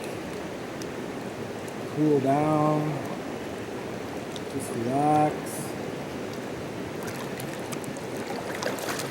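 Creek water flows steadily at a streamside gold-mining spot, a constant close wash that fills the background while someone talks briefly over it.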